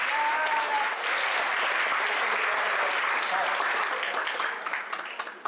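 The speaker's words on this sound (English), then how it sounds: "One more time, clap it up for this group." Audience applause at an annual leadership summit, a dense, sustained burst of clapping from a large crowd filling the room, tapering slightly at the end.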